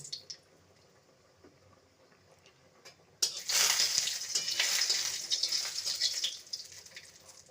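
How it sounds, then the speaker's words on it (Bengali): Cashew nuts dropping into hot refined oil and ghee, a quiet start giving way to a sudden loud, crackling sizzle that continues steadily and close, with no voices. "কাজু বাদামটাকে ভেজে নেব"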